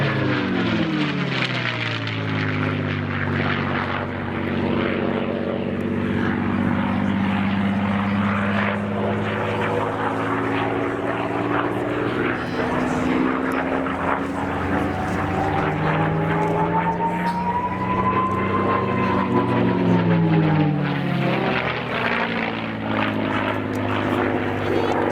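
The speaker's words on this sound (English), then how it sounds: "In from the left, the P-51D." A P-51D Mustang fighter plane flying past at an RAF Cosford airshow, its loud propeller engine drone rising and falling in pitch as it sweeps by overhead, continuous for the whole pass.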